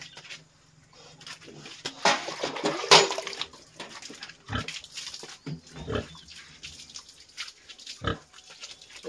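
Farm pigs being bathed with water: splashing and spraying water mixed with grunts and snorts from the pigs, with sharp irregular bursts and a few louder thuds from close by.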